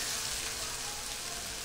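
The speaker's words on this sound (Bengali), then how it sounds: "গাঠিগুলো একটু 1 মিনিট 2 মিনিট একটু ভেজে নেব" Taro stems frying in oil with onion and green chili in a pan, giving a steady, close hiss and sizzle that carries on alone throughout.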